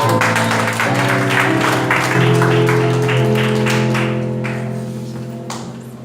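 A church congregation at an evening service claps loudly and continuously over sustained keyboard chords, the applause swelling and then slowly thinning toward the end.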